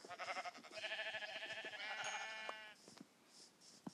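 Sheep in Minecraft give several quick, wavering bleats close by, one after another, then soft scattered clicks and small game sounds follow.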